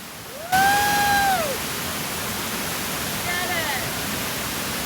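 Water from a waterfall in Juneau, Alaska pouring down over rocks, a steady loud rushing hiss that fills the whole clip, with a brief whistle-like tone near the start and faint voices in the background.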